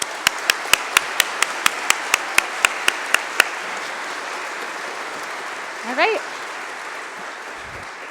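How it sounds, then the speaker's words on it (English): Audience applause for a children's choir, a dense wash of clapping filling the room and slowly tapering, marked early by a run of sharp regular taps, with a brief voice speaking near the end. "let's give another round of applause for these awesome kids"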